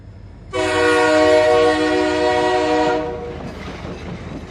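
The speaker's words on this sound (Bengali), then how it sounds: "ট্রেন এখন ছুটছে তীব্র গতিতে।" A fast-running train in an audio drama: a loud, sustained multi-tone horn blares for a few seconds over rolling rail noise, then fades, leaving the rumble of the moving carriages.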